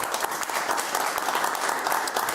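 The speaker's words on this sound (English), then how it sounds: "a big round of applause for Jean Hatchett" A television studio audience at a panel discussion show applauds steadily, a moderately loud wash of many hands clapping that continues evenly throughout.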